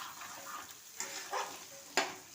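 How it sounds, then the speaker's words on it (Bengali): Potatoes sizzle in hot oil in a curry pan of cauliflower and potato, a steady close frying hiss with a few louder spitting bursts as they are stirred. "এবার আলুগুলো দিয়ে দিচ্ছি।"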